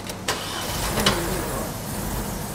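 A Mazda engine runs rough and lean, its uneven idle broken by a couple of sharp popping backfire bangs close by.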